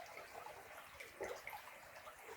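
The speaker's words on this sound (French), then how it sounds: "j'adore voir l'eau, enfin entendre l'eau couler" A small stream running high and muddy beside a wash house, a close continuous babble and gurgle of flowing water with small splashes, heard alone without voices.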